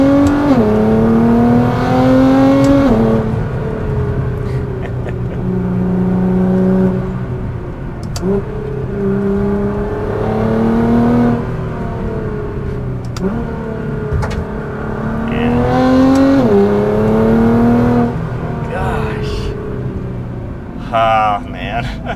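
A 700 HP FBO R35 Nissan GT-R, with its exhaust opened up, accelerates hard through repeated gear pulls as the loud engine note climbs and drops in rising sweeps, with people talking over it.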